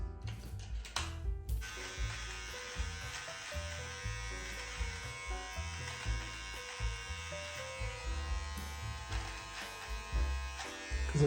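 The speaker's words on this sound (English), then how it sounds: "here's where the precision trimmer comes in handy." A Braun beard trimmer 7 precision trimmer buzzing steadily while trimming a beard, close and continuous, its tone shifting slightly as it moves across the hair, with light tapping underneath.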